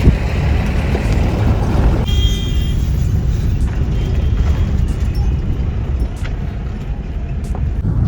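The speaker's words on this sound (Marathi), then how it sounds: "अयो किती आदळ ती गाडी बघा." A tempo truck rumbles along a rough single-lane road at about 20-30 km/h, its broadband engine and road noise loud and steady throughout, with a few sharp knocks as it jolts over bumps.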